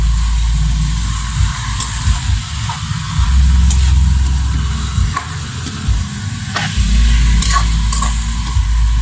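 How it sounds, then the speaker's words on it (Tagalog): Chicken pieces browning in a pot for Filipino chicken adobo, a steady low sizzling and frying hiss with occasional stirring clinks, close and fairly loud throughout with no talking. "Sa lumabas yung katas, hanggang saan mag-brown yung ating chicken."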